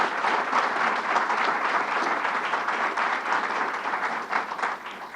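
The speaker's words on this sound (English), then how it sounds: "Dr. Stillman, let's give him a round of applause." Sustained audience applause for a scientist at a groundbreaking ceremony for a laboratory center, loud and steady throughout with dense clapping from a large crowd, fading slightly at the end.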